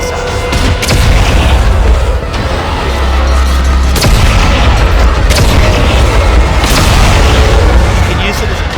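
Mine weapon in Dead Space 3 fired as a close-range rocket launcher, several loud, sharp booms and blasts over a deep rumbling bed, with a voice talking throughout.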